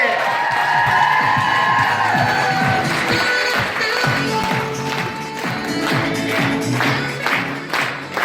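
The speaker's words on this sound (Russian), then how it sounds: "Аплодисменты!" Seminar audience breaking into applause and cheering, a dense, steady crowd roar with claps and whoops that carries all the way through, with some voices mixed in.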